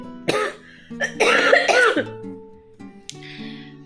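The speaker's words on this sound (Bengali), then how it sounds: "কাশিটা আবার বেঁধে গেছে" Several harsh, close coughs in quick bursts, a throat clearing between them, with quiet tonal background sounds.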